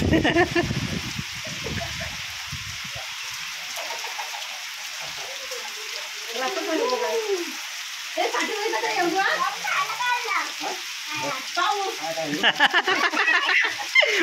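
Sudden heavy rain pours down in the Konkan countryside as a steady broadband hiss that swells louder near the end, with people talking over it throughout.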